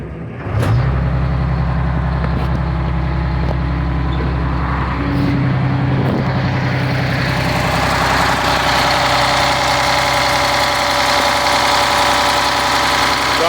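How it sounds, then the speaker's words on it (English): A Detroit Diesel 6-71 engine in a 1976 Ford L9000 truck cranks and fires, then settles into a loud, steady, rumbling idle close by, with a few sharp clanks early on. "The mighty Detroit Diesel."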